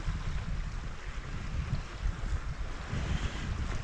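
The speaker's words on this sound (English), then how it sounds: "you can hear the little waves just washing up against the rocks" Small, gentle sea waves wash against shoreline rocks at Camp de Mar, a steady, soft broadband surge with low rumbling wind noise on the microphone throughout, no voices.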